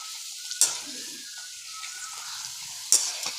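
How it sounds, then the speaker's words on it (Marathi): Homemade potato papad fries in hot oil with a steady, close sizzle throughout, broken twice by a sharp clink of a utensil against the pan. "मी बटाट्याचे पापड बघा आता हे तळून घेते"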